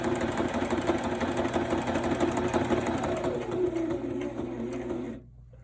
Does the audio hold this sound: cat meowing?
no